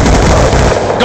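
A loud, dense burst of gunfire from a sniper rifle in Black Ops II, layered with other battle noise in an ongoing firefight, sustained and close throughout.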